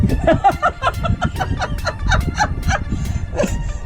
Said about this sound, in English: Chicken! My chicken got loose.